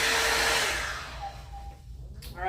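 A blow dryer roars loudly on natural hair, its airflow shifting in tone, then easing off into a quieter whine before surging again near the end.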